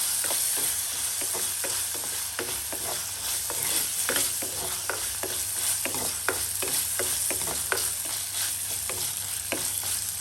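Jackfruit seeds being sautéed in a pan, a steady close sizzle with repeated rhythmic spatula scrapes and taps through the whole stretch, no talking.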